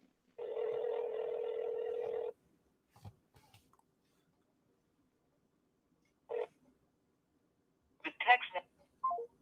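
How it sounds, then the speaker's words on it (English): A phone dial tone hums steadily for about two seconds, then silence broken by faint clicks and a few short bursts of keypad tones toward the end, recorded close and fairly quiet. "I'm calling someone else, David."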